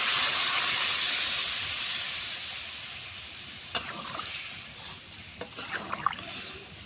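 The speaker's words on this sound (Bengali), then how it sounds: "দেখো তরকারিটা কি সুন্দরভাবে ফুটে উঠেছে।" Fish curry with potato and drumstick stems bubbling in a pot, a steady hiss fading slightly with a few soft pops and clinks toward the end.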